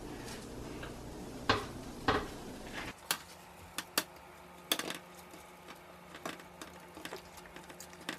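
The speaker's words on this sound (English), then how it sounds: "And then I'll go ahead and flip everything over just to get the other side." Homemade breaded nuggets and fries being flipped over in a pan, giving a series of sharp clinks, taps and scrapes, a few louder knocks early on, then lighter scattered clatter over a quiet background.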